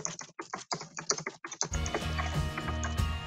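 Rapid typing on a computer keyboard, a quick irregular run of close crisp keystrokes that gives way to a steadier, busier clatter with a low hum underneath.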